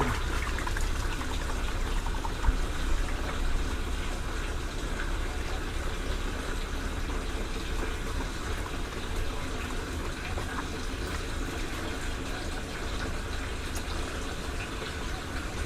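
Water poured and splashing continuously during an outdoor bath on a farm, a loud steady gushing rush with no talking.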